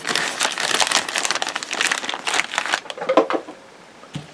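Plastic wrapping on a 1/72 Lindberg A4D Skyhawk model kit crinkles and crackles as it is cut open, a close, busy run of rustling that thins out toward the end.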